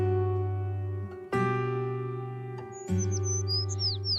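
A green bird chirps in a series of quick, bright tweets near the end, over a sustained, droning musical backing with a few swelling chords.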